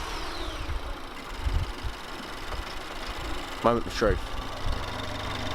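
Car engine with an induction kit fitted running at a steady idle, a low mechanical hum under a brief spoken line, then a short rise in intake noise near the end.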